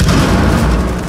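A frag grenade going off in the tactical shooter game Rainbow Six Siege, a deep, sustained low boom filling the whole moment with heavy rumbling weight and no voices over it.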